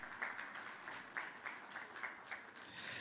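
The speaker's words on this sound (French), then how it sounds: "Voilà, on applaudit." Faint, distant applause from an audience at a business conference, scattered hand claps forming a light, uneven patter over about three seconds.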